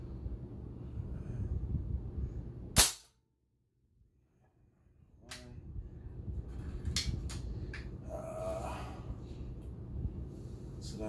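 A SPA P12 bullpup air rifle fires pellets over a chronograph outdoors: one sharp, loud crack, then a brief hush and a few smaller clicks and handling knocks over low background rumble.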